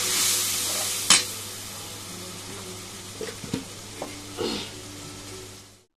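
Ground spices with turmeric and coriander powder sizzle softly in a pot for duck biryani, with a sharp clatter of a spoon and several faint stirring scrapes as water goes in.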